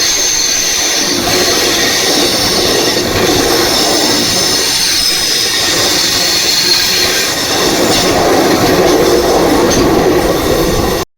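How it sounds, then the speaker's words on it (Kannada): A train pulls into Bangalore Cantonment station with a loud, continuous rumble of rolling wagons and a sustained metallic wheel squeal running the whole time, close by and with no talking. "ಇವಾಗ ನಮ್ ಟ್ರೈನ್ ಬಂದೈತೆ ಬೆಂಗಳೂರು ದಂಡುಗೆ"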